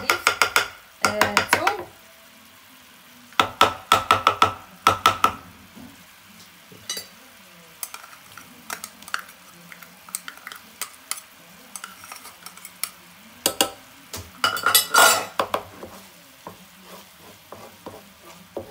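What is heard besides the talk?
garlic added to a pan and frying with shrimp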